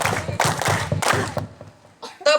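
A group of children at an Islamic pre-Ramadan gathering claps a rhythmic 'tepuk semangat' cheer, several quick bursts of hand claps in a steady pattern, fairly close, followed by a short pause and a brief voice.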